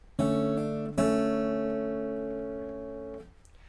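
Acoustic guitar notes are fingerpicked on the second and third strings with the index and middle fingers, from a song. Two plucked sets ring out close and clear, the second sustaining and fading slowly.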